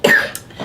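A girl coughs once sharply and close, followed by a softer throat-clearing cough a moment later, with no talking.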